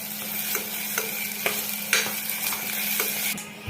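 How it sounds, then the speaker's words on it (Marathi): Spice masala for a murrel fish curry being stirred and sautéed in oil, a continuous sizzle broken by regular scraping strokes of a spoon, close and alone. "चांगलं तेल सुटीपर्यंत त्याला परतून घ्यायचंय तेलावर"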